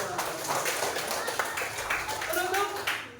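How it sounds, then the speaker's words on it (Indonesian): A classroom of students clapping together, a dense patter of many hands at steady volume, with a voice speaking over the applause. "Tepuk tangan dulu untuk kita semua."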